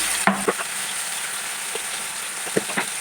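Greens added to browned onions frying in a pan, a close steady sizzle with a few sharp stirring clacks and scrapes, no voices.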